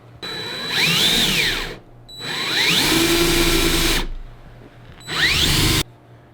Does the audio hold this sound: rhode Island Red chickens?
no